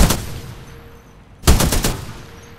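Gunfire from a weapon in the Titanfall 2 training simulation: a loud burst of rapid shots, a short lull, then a second sharp volley of several closely spaced shots, with no talking.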